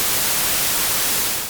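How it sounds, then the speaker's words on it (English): Steady white noise, a bright, even hiss spread across the whole range, loud and unbroken, fading slightly at the end, with no voices. "This is white noise."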